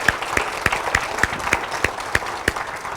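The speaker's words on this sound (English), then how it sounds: "I'd like to give a warm round of applause to all the people here who work for the school" Someone claps alone for the people who work at a school, about ten sharp, evenly spaced claps at a moderate pace, close and clear over a faint murmur of room noise.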